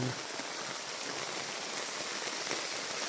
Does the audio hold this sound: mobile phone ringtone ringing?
no